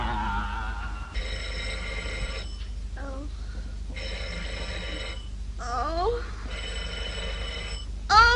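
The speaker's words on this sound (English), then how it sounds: "make them stop ringing that phone" A telephone bell rings in repeated bursts, loud and close, with voices speaking in the pauses between the rings.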